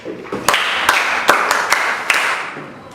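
Pupils in a class clap again for their classmate Bernard: a dense, nearby round of hand claps punctuated by loud, evenly spaced accented beats, tapering off at the end.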